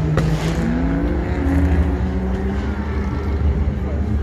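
A turbocharged Ford Ka engine at a Halloween car meet revs up close, its pitch climbing and settling through a few short pulls, with voices nearby.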